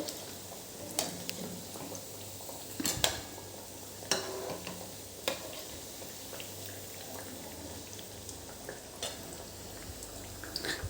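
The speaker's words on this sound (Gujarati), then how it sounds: "એકદમ ધીમા ગેસ પર આપણે તળીશું" Wheat-flour dough for churma fries gently in oil on a low flame, a soft steady sizzle with occasional clinks of a utensil against the pan.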